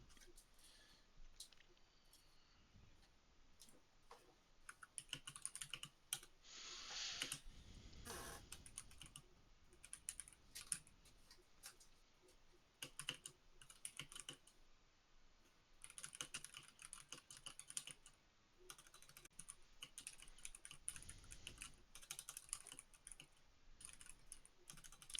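Rapid, continuous typing on a computer keyboard, repeated quick key clicks in uneven bursts with brief pauses, fairly quiet and close, with no talking over it.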